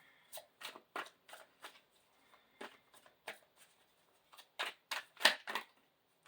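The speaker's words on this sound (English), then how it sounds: "I want to shuffle real well to move the energy really well" Playing cards are shuffled in a series of quick, crisp riffles and snaps, irregular bursts with short pauses between, close and fairly quiet.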